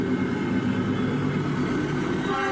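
Manggarai commuter train in motion, a steady, loud rumbling roar of wheels and carriage noise that carries on throughout, with no voices.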